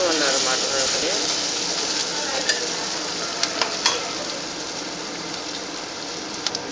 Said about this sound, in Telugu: ఇది పచ్చి వాసన పోయేంత వరకు ఇలా ఫ్రై చేసుకుంటూ ఉండాలన్నమాట ఫ్రెండ్స్